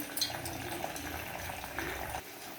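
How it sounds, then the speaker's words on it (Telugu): Roasted chana tipped into a pan of hot oil with curry leaves gives a steady, close, bubbling sizzle that stops abruptly near the end, with no voices. "తర్వాత పుట్నాలు వేస్తున్నాను."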